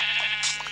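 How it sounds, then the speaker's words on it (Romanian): A sheep bleats once in the video game Minecraft, a loud, close, wavering baa. "Ia uite câte oi"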